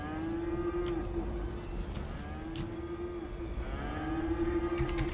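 Cattle moo repeatedly inside a city-building game, several long drawn-out lowing calls rising and falling over a steady background hum of game traffic, with no talking.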